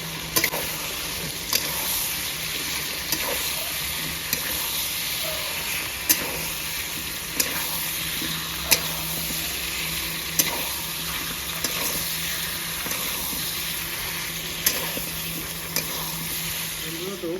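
Potatoes frying in a tomato gravy with cauliflower and peas, a soft steady sizzle with regular light clicks of stirring, fairly quiet and close, while a person talks.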